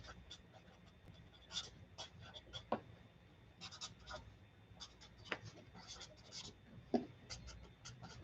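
Handwriting notes with a pen or pencil on paper, soft scratchy strokes in short bursts close by, faint and steady in a quiet room.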